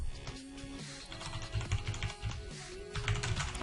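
Someone types on a computer keyboard in a fast run of close, clicky keystrokes, steady with short pauses, under a faint tonal background.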